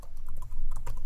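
Someone types a command on a Raspberry Pi computer keyboard. Quick, close key clicks come in a brisk, uneven run with one short pause.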